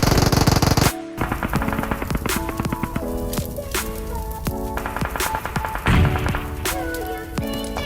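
Rapid automatic gunfire in PUBG Mobile, burst after burst of quick cracking shots with some heavier booms, loud and close, filling the whole stretch with a short gap near the start.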